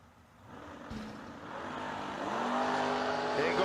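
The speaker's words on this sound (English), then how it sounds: "here comes the 69 Camaro chasing him down" A 1969 Camaro at a drag racing bracket event, its engine roaring and building steadily louder as it charges down the strip, with a commentator's voice running underneath.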